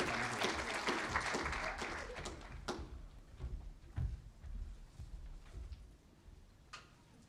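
Audience applauding students at a school scholars and leaders recognition award ceremony, a dense burst of clapping that fades over several seconds into scattered claps and room noise, with a few sharp isolated claps near the end.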